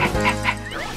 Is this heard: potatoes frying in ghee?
no